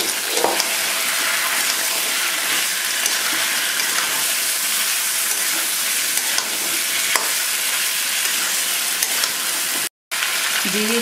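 Young jackfruit, potatoes and tomato being sautéed together in a pan for a Bengali jackfruit and prawn dish, giving a steady, loud sizzle with occasional stirring scrapes and a brief dropout near the end.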